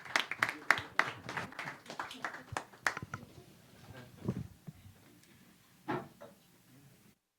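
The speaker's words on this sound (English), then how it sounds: "Another round of applause, please." A small audience gives a sparse round of clapping after a short presentation, with scattered hand claps that are brisk at first and then thin out into a few quiet, isolated claps.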